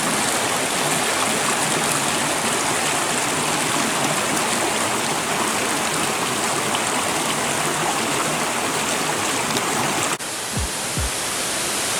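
Stream flowing below a bridge near the Florence Falls swimming hole, a steady loud broadband rush of water that fills the whole stretch, with a brief bump near the end.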